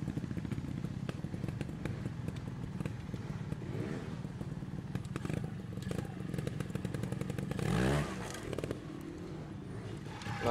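A trials motorcycle picks its way through a rocky competition section, with a low engine putter, clattering over stones and a brief louder blip near the end, heard faintly from a distance.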